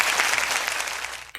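A short round of applause from an audience, brisk and fairly close, dense clapping for just over a second before it breaks off.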